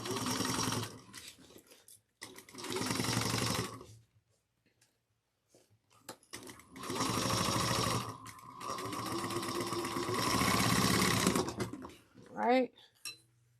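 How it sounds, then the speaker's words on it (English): Several bursts of a sewing machine running side seams on a handheld bag, separated by short pauses, with a longer steady run near the end, then a brief clatter; close and fairly loud. "sew these down, the sides down at 3/8 of an inch"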